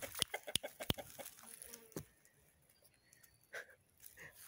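Leghorn chickens cluck in a flurry of sharp, close calls during the first second, followed by scattered quieter clucks and a few fainter calls later, with no speech over them.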